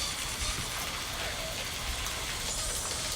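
Heavy rain or hail falling outside, a steady, dense hiss and patter heard from indoors, even and continuous throughout.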